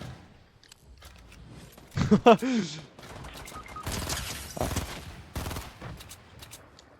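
Rapid gunfire from a Fortnite match crackles in short bursts, loudest around the middle, mixed with game effects while a French-speaking player talks.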